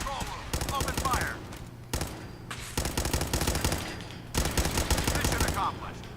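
Automatic gunfire in the video game Fallout 4 comes in long rapid bursts separated by short pauses. It is loud and dense, with faint game voices mixed in.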